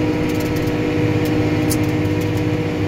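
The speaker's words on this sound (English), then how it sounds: "This mower just cuts it right down." Tractor pulling a 285 disc mower through heavy brome grass hay, a loud steady engine drone with constant mechanical whir and faint rattles, close by throughout.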